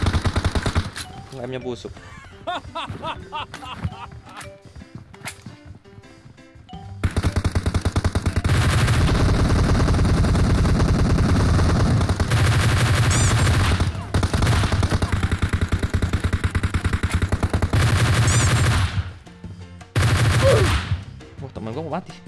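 Heavy automatic gunfire in PUBG Mobile, loud sustained bursts and volleys with brief gaps. A player's voice chatters over the shooting, and a quieter stretch of talk comes before the firing begins.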